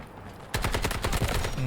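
Rapid automatic gunfire from an AKM-style rifle in Delta Force, starting abruptly after a quiet moment and continuing as a fast, loud, close-up burst.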